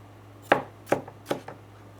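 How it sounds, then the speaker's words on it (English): Knife chopping tomatoes on a board for an Azerbaijani shepherd's salad: three clear, evenly spaced cuts with a small fourth tap, close and quiet over a low steady hum. "can chop the tomatoes even further"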